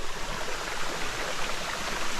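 Kumalib Falls, a small waterfall in Sitio Dagdag, Alilem, Ilocos Sur, roars as a dense continuous broadband rush, loud and close, with no voices over it.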